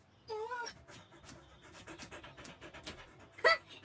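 A dog at a market stand pants in quick, soft breathy bursts close by, with faint voices and a brief louder sound near the end.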